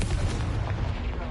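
A fire-blast spell in a Harry Potter video game on PS5 bursts out as a short booming rumble, dense and loud at close range, with a voice nearly simultaneous with it.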